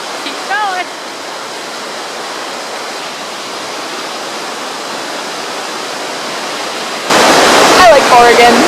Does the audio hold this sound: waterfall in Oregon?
yes